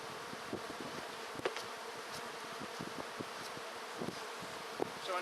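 Honey bees hum steadily around a hive in early spring, a dense, continuous buzz with occasional louder individual bees passing close by.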